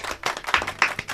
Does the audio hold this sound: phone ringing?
no